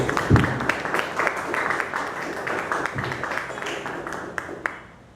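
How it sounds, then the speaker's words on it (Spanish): An audience at a human dignity and equality session claps for a doctor taking the podium, a moderate crowd of hands with a few sharp individual claps standing out before the sound fades away. "Solicitamos fuertes aplausos a la doctora Ana María Ríos Negreiros"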